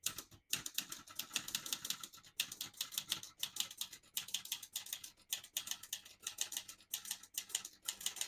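Rapid, steady clatter of typewriter keys struck close up on a 1965 Olivetti Lettera 32 portable typewriter, a light mechanical tapping with brief pauses between bursts.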